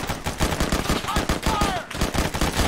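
Rapid automatic gunfire in a combat game with a squad of soldiers, loud and close, bursts hammering in a dense rhythm with a brief gap near the end, while voices call out beneath the shooting.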